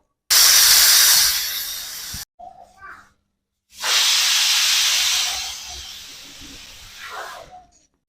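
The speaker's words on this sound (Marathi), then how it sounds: "कुकरच्या शिट्ट्या होत आहेत" A pressure cooker cooking dal and rice on a medium gas flame vents steam in two loud, long hissing whistle bursts, each fading off, separated by a short quiet gap.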